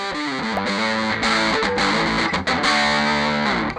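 Distorted electric guitar played through a Kemper profile of a cheap Danelectro amp, a short close riff of chords and single notes with a gritty, buzzy tone and no talking.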